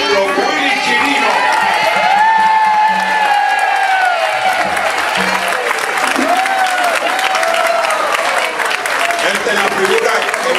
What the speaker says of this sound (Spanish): Vamos a darle un aplauso bien fuerte